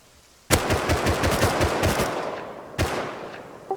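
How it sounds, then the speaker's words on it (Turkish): Rapid automatic MP5 fire in the survival game Rust, one loud sustained burst of closely spaced shots followed by a shorter second burst, sharp and close with no talking. "MP5 bana sıkıyor."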